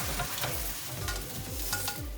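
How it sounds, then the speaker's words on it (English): Okra (bhindi) sautéing in a pan on high flame gives a steady close sizzle, broken by repeated stirring scrapes at a loose, regular rhythm. "minutes on high flame, I'm sauteing this, and as you can see, the bhindi is turning slightly brown"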